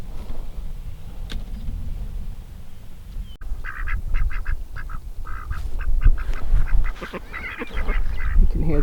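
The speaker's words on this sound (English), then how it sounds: "You can hear the ducks." Several ducks quack in bursts outdoors in a garden orchard of young fruit trees, the calls mid-distance and clustered in the second half over a steady breezy background.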